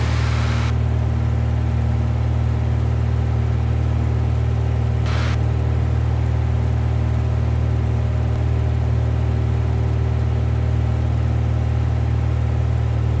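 A Cessna 172 engine drones steadily during the climb, a loud, even propeller and engine hum heard from inside the cabin, with no talking.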